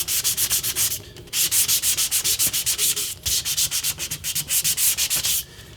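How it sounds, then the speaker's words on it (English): A prop Wolverine claw blade being sanded with 220 grit sandpaper, loud close rhythmic back-and-forth rasping strokes in quick succession with a brief pause. "Next step after that is 220 grit sandpaper."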